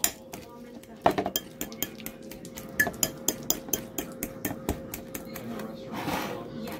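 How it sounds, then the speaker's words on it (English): Bananas being mashed in a bowl for banana bread, rhythmic clinking knocks of utensil against dish repeating about twice a second, close and fairly loud, with a voice talking in between. "Mashing it up."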